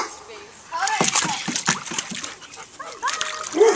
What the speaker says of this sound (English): Who's going to get in the water with Harley?